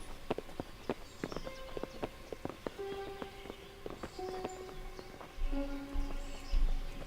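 Horses' hooves clip-clop in the video game Kingdom Come, a scattered run of sharp clicks and knocks at low level, with game music tones and a soft thump of movement building toward the end.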